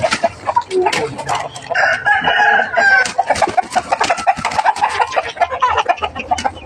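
Fighting cocks on a farm crow repeatedly and cluck in a busy, layered chorus, several birds close by overlapping one another with no pauses.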